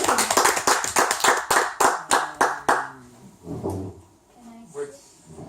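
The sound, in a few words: applause for a thesis proposal presentation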